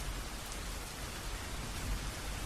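Steady rain falls without pause, a dense, even hiss of drops on surfaces that fills the whole stretch with no voices and no thunder.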